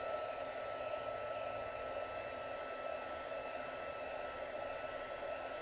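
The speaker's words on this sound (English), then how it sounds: "I'm going to hit this with my embossing gun for just a second, because sometimes white craft ink takes a little bit longer" A heat embossing gun blows steadily while drying white craft ink on a card-making project, a constant close whirring hiss of motor and airflow that holds level throughout with no talking.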